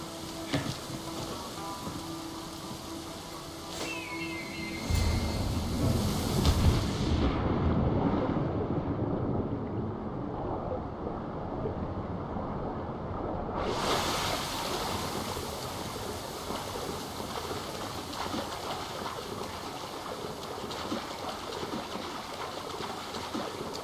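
A waterfall in the video game Assassin's Creed Odyssey roars as a continuous, loud rush of falling water, swelling and then steadying, with no voices.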